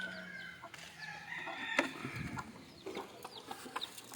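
Country chickens cluck and a rooster crows in their coop, a converted pigeon enclosure, with several overlapping faint calls and sharp clucks at a moderate distance and no talking.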